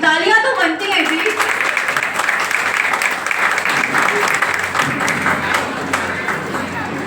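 Applause from an audience at a school award ceremony honouring top students on Mother's Day, a steady wash of clapping hands that holds throughout, with crowd murmur mixed in.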